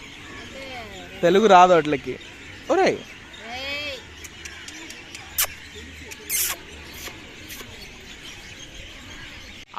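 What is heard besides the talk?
sparrows chirping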